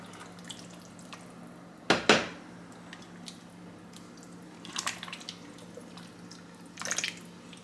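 A pot of Brunswick stew is stirred, giving a few wet, sloshing scrapes close by: one sharper clatter, then softer bursts over a quiet background hum.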